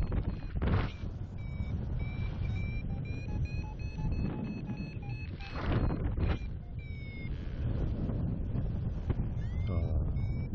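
Strong wind buffets the microphone during a paragliding flight near a takeoff site, a loud continuous low rumble with gusting surges throughout, with faint higher tones drifting above it.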